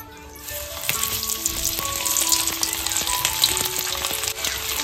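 Spice-marinated fish sizzles and crackles steadily on a hot oiled tawa, close and continuous, with light music running underneath.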